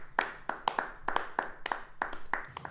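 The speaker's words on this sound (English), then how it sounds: "You're all gonna clap when I tell you to clap." Studio audience clapping in a steady rhythm of sharp, evenly spaced bursts, about ten claps in under three seconds, moderately loud with no voices.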